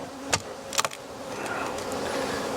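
Honey bees buzzing around an open hive in spring while honey supers are added, a steady close drone with a few sharp clicks and bumps near the start.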